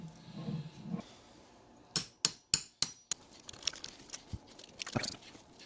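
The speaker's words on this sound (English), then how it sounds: "A little hammer here." A small hammer taps metal on a John Deere TRS 32 snow blower four times in quick succession, sharp and close, followed by lighter clicks and scattered knocks.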